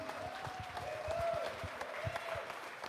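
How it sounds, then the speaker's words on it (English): A studio audience applauds a 2019 Corvette Dream Giveaway grand prize winner at an award ceremony, steady moderate clapping with a tonal hum running beneath it throughout. "Studio audience, let's give him a round of applause."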